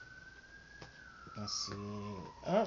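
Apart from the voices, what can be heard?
sirens passing outside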